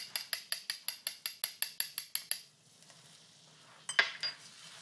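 A spoon or whisk stirs a soup flavor base in a pot over low heat, scraping in a quick, even run of about a dozen metallic clinks, then stopping; one louder knock follows after a short quiet spell.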